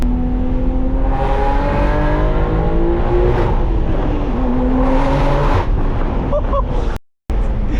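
A lowered BMW M3 accelerates hard along a canyon road, engine rising in pitch through the gears with a loud, continuous in-cabin roar and a brief dropout near the end.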